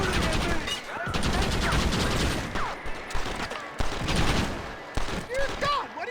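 Rapid gunfire fills a Red Dead Redemption shootout, dense overlapping shots and volleys crackling almost continuously with brief gaps, loud and close, with shouted voices mixed in.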